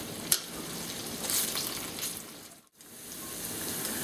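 French fries frying in a pan, a steady close sizzle and crackle with a brief drop in the middle before the sizzling resumes.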